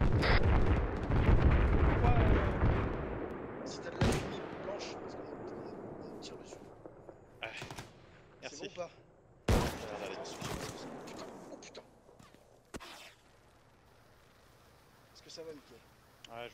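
Sharp gunshots crack out during a combat scene in a forest rescue operation, scattered single reports at irregular intervals over a low rumbling wash, with voices talking between the shots.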